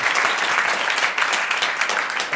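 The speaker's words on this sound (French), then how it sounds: "Madame Il Chip a de Paris, vous l'applaudissez tout de suite." Studio audience applause on a French television game show, a steady, loud burst of dense clapping lasting a couple of seconds with no other sound over it.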